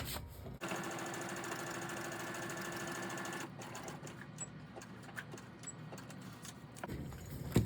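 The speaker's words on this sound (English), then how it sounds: "I'm going to go ahead and just sew up the edges" A sewing machine stitching up fabric edges runs in a steady, loud, fast mechanical whir for several seconds, pauses briefly, then carries on more unevenly until it stops at the end.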